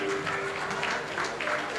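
An audience claps steadily for the consul of the Republic of Guinea in Guinea-Bissau at a public event, a dense, continuous applause lasting throughout, with a faint steady tone running underneath.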